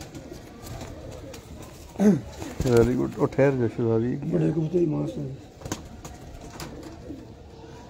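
A female pigeon on a rooftop loft coos softly beneath someone talking nearby, with the talk swelling in the middle stretch.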